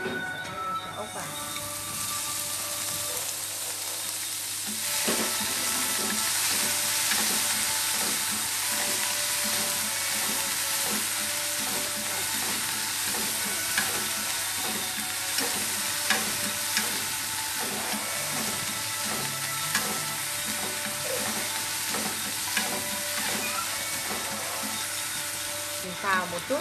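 Golden apple snails stir-fry in a pan, a continuous sizzle running beneath scraping and tossing sounds, with a few sharper clinks toward the end and a voice talking now and then.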